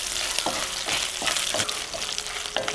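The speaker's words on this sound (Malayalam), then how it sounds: "ഞാൻ ആദ്യം കടുക് അങ്ങ് പൊട്ടിക്കും" Mustard seeds crackle in hot coconut oil, a constant loud frying sizzle broken by scattered sharp pops and stirring scrapes.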